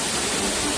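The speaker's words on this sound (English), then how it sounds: "incredibly thrilling to hear the water crashing right in front of you" A brief, dense hiss of water comes from the Upper Duden Waterfall in Antalya, Turkey, crashing close by, steady and fairly loud throughout.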